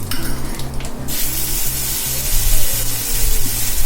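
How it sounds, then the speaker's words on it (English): Kalonji seeds, chopped tomatoes and slit green chilies hit hot mustard oil, producing a loud, close sizzle and spattering fry that holds steady throughout, with no talking. "Add kalonji into hot mustard oil with some chopped tomatoes and slit green chilies."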